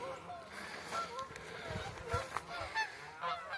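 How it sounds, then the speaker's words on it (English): Geese honking at a farm pond on Central Kentucky farmland, a scattered series of nasal honks at moderate distance, fairly faint, with someone talking quietly underneath. "Honking geese."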